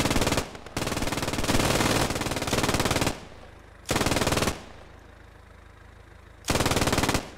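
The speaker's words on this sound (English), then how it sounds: "That MG fire." Machine gun fire in a first-person military video game, long sustained automatic bursts with brief gaps between them, loud and close with no talking.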